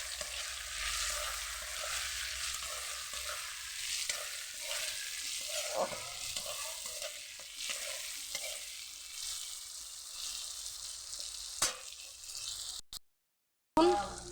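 Chili powder stirred into hot oil in a frying pan, a steady close sizzle with occasional spoon scrapes running throughout, ending in a few knocks and a sudden cutoff.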